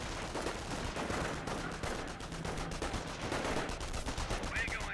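Rifle squad firing in the Company of Heroes video game, a dense continuous crackle of small-arms shots with battlefield rumble, steady and moderately loud throughout.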